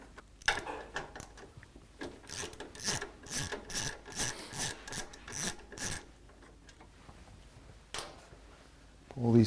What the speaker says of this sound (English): Take the center bolt out of here for the dash so that I can get to this bolt over here.